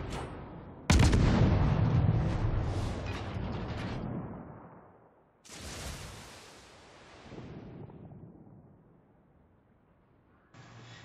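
A destroyer's guns fire at an enemy Gearing in a naval combat video game: a loud boom opens into a long rumbling roar that fades, then a second quieter salvo and distant rumbles follow with no talk.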